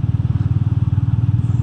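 A Royal Enfield Meteor 350 cruiser motorcycle rides steadily, its single-cylinder engine thumping in a fast, even pulse, loud and close throughout with no talk.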